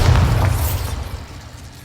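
A loud, close magical blast from the Bombarda spell in Hogwarts Legacy: one heavy booming burst up front that rolls off into a decaying low rumble over nearly two seconds.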